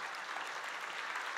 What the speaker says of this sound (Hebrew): בוא נמחא להם כפיים רגע